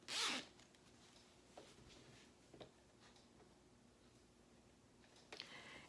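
A zipper is pulled once in a quick, close rasp, followed by faint scattered clicks and handling noises in a quiet room.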